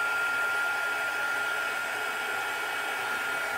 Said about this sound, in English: I'm gonna heat set it with my heat tool gun